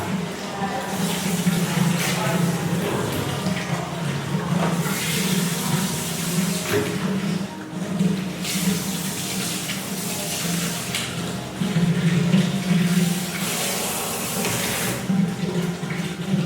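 A human hair wig is rinsed under a running tap to wash out conditioner, with a continuous loud rush and splash of water that shifts in intensity as the hair moves through the stream.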